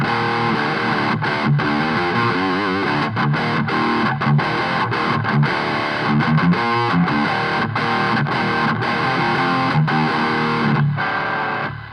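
A distorted electric guitar plays chords and riffs through a BOSS ME-90 amp model with cab simulation, high end slightly rolled off, fairly loud and continuous with brief gaps between phrases.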